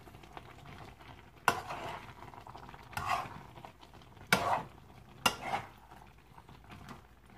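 Chili being stirred into chicken igado in a pan, giving four distinct clanks of a spoon against the pan spaced a second or so apart over a low, steady sizzle.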